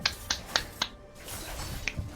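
A single person's sharp hand claps, four evenly spaced close strikes, a pause, then one more, after an exciting game.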